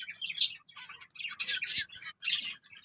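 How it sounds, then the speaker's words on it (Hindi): Mixed caged finches, zebra finches, snow white and isabelle finches, give bright, rapid chirps and tweets in several short bursts, close by and clear against a quiet background. "इसमें मिक्स हैं फिंचेस, स्नो वाइट भी है और आइज़ाबेल भी है और ज़ेब्रा फिंच भी है"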